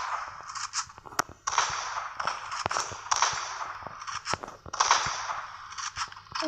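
Gunshots ring out in a mobile shooting game, a string of sharp snapping cracks at irregular intervals, some quick doubles, with faint game ambience between shots.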